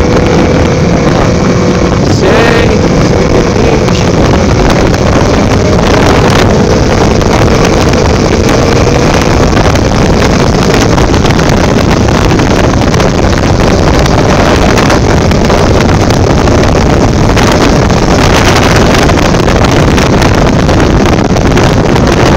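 A car engine revs continuously in a workshop, loud and close, with heavy wind-like rumble and roar throughout and slight rises in pitch as the throttle is pressed.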